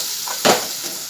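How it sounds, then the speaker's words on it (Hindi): Red chili masala, turmeric and onion frying in a pan with softened tomato, a close hiss that flares in one brief burst as the spices hit the oil, then settles to a faint sizzle. "अब मैं इसमें लाल मिर्च मसाला डालूंगी, हल्दी डालूंगी और थोड़ा प्याज में भूनूंगी"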